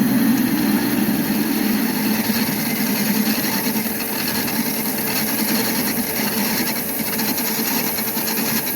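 A metal lathe turning at about 500 rpm produces a steady, even machine hum with a rasping, broadband tone that stays constant throughout, close up, with no talking.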